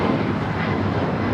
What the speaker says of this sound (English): Austrian up next for takeoff here on the south side